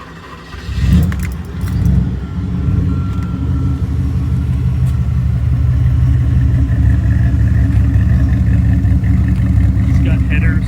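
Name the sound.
Porsche 928 engine starting and idling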